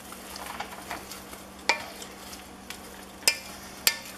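Pasta and Swiss cheese are stirred in a cooking pot, with a soft, continuous churning broken by three sharp utensil clinks against the pot, close up and without talk.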